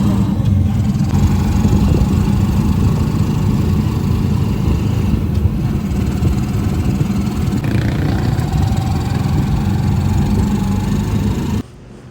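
A motor tricycle engine runs steadily and loudly with a coarse, rumbling drone throughout, cutting off abruptly near the end, with no talking.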